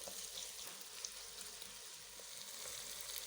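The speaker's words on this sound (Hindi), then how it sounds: "2 मिनट के लिए टमाटर भी साथ ही हम फ्राई करते हैं।" Finely chopped tomatoes frying with ginger and garlic for chicken curry make a faint, even sizzle and crackle with soft, scattered pops. No one talks.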